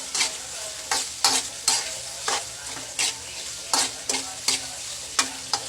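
Chayote and shrimp being sautéed in a pan, with a spatula scraping and stirring in regular strokes about every half second over a steady background sizzle, close and fairly loud.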